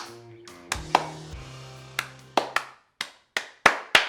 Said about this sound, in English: You want to join me in a slow clap?